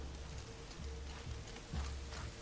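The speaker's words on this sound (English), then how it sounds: "It's raining." Steady rain patters and hisses across the ground in the Horizon Zero Dawn video game, faint and continuous with no other sounds.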